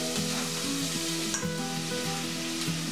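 Chopped onion hits hot oil in a cooking pot for a Basque leek-and-potato stew with salt cod, sizzling steadily and loudly up close, with faint stirring scrapes.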